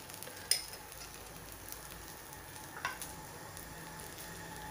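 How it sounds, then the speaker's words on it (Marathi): Oil drizzled onto a rava (semolina) uttapam cooking on a hot pan brings a faint, steady close sizzle with a couple of small clicks, and no talking. "याच्यावर असं थोडंसं तेल टाकायचं आहे"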